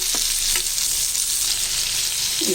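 Tomatoes sauté for chutney in hot oil, giving a loud, continuous sizzle and hiss with a few faint stirring knocks.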